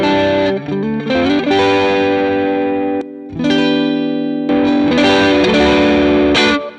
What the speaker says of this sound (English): it loaded like some sort of like a tube screamer